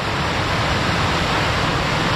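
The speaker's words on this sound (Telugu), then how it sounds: "ఇది జనరల్గా జస్ట్ ఫ్లో అవుతున్న వాటర్ అనమాట" Pykara Waterfalls near Ooty, where river water flows over rocks in a stream-like cascade, gives a loud, steady, full-bodied rush with no pauses and no voices.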